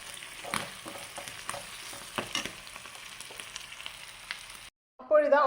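Garlic and dried red chilies stir-frying in a pan for a dried shark chammanthi, a steady close sizzle with scraping stirs for about five seconds, then a brief cut to a different short sound.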